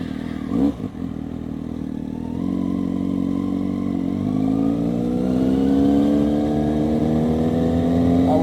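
A car engine pulls away and accelerates up a residential street, its steady rising drone building from a brief clatter at the start and holding loud and close throughout, with no talk.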